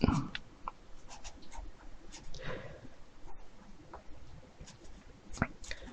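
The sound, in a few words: pencil drawing over a sketch contour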